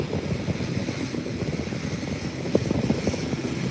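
An airliner comes in at Howard Hamilton International Airport, a steady, broad engine roar that holds at a fairly even loudness throughout, with no talking.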